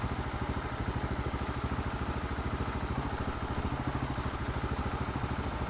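A KTM SMC 690 motorcycle fitted with an Akrapovic exhaust, ridden at night, throbs with a close, steady rapid pulse. The engine note stays even and continuous throughout, with no voices.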